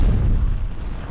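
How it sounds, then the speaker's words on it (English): Grenade explosion in the shooter game F.E.A.R., a loud close deep boom that rumbles and fades over about a second. "Throwing grenades at me."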